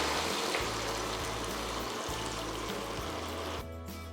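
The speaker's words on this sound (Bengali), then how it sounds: "তাতে ঢেলে দিন আগে করে রাখা ঝোলটি" Broth pours into a pan with chopped ginger, a steady close-up stream of liquid that ends with a sizzle as it hits the hot pan.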